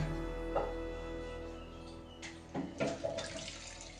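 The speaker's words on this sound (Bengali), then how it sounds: "এবার এর মধ্যে দিয়ে দেব আমি দুধ" Milk is poured into a pot of chicken simmering with cardamom, cloves, cinnamon and bay leaves. Soft liquid splashes and gurgles build in the second half over a low background hum.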